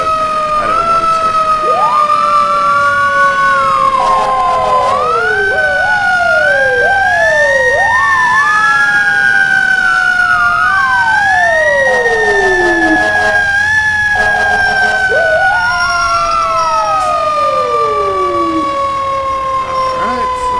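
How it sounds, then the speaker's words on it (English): A fire engine's siren wails loud and close in a simulated emergency response, sweeping up and down in repeated yelps and long rising tones over a constant engine rumble. "Cut off that siren."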